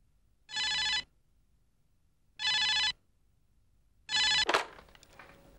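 A telephone bell rings in three short bursts with quiet pauses between them, followed by a clatter as the handset is picked up, in an indoor scene from a TV drama.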